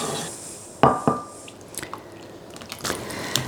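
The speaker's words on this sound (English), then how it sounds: "Give it a little stir." Gentle wet squishing and soft clinks as orange juice and vanilla extract are stirred into cooled melted butter, a few brief taps over quiet liquid swirling.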